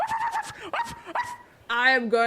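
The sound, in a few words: person imitating a dog barking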